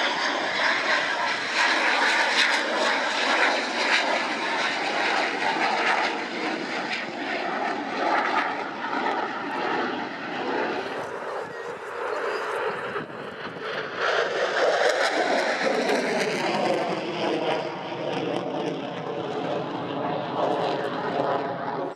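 A military fighter jet flies a display along the runway at the Royal International Air Tattoo 2016 airshow, giving a loud, continuous engine roar that swells and shifts as it passes, with a faint commentator's voice under it.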